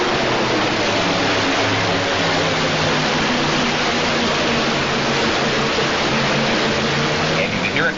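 Modified pulling tractor with four 454 engines under heavy load during a 1980s indoor super pull, a loud continuous roar with low rumbling harmonics that holds steady throughout and drops slightly at the very end.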